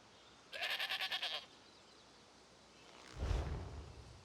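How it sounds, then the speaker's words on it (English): Sanguine's Black Goat mount from The Elder Scrolls Online gives a rapid, pulsing bleat, loud and close, followed a moment later by a softer low rumble. "And we got Sanguine's Black Goat."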